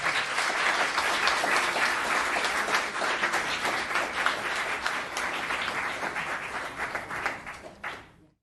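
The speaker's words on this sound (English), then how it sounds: "Let's give them a round of applause." Steady, full applause fills the Los Gatos town council chamber, dense and even for several seconds before tapering off and stopping abruptly near the end.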